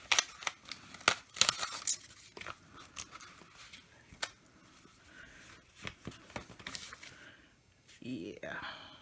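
Adhesive tape tears and crinkles in quick irregular bursts during a small glue-bound book repair, close and fairly loud, with soft handling noises between pulls.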